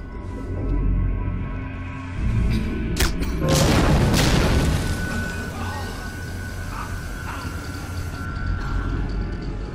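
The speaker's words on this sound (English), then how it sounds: "shoot an explosive barrel to take out a few guards at once" An explosive barrel blowing up in the World War II stealth game Velvet Assassin, a heavy booming blast with crashing debris amid game ambience and a lingering rumble.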